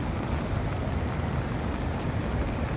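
Steady rain falls over Victoria Harbour in Hong Kong, a dense, even hiss mixed with low wind rumble and continuous from start to finish, with no voices.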